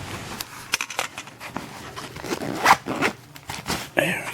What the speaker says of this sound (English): Try and unzip this bad boy one-handed.